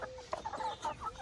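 Eight-week-old Cornish Cross meat chickens cluck in a quick series of short, close, uneven calls over a soft background.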